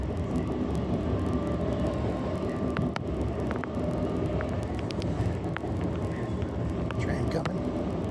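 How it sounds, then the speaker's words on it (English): A Norristown High Speed Line train rumbles steadily and loudly throughout, with a dense low roar and occasional high squeals and clicks, heard from close by. "Train coming."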